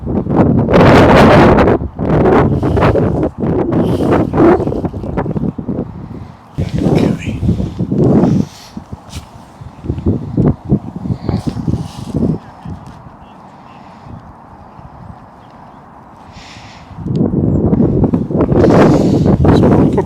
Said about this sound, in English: the wind is absolutely awful